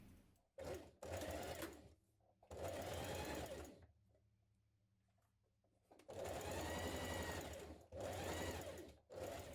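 Sewing machine stitching a jumpsuit's front to its back, running in loud bursts of rapid needle clatter that stop for pauses between seams, with a quieter hum in the longest gap.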